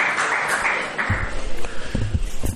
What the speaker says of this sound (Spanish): le damos un cálido aplauso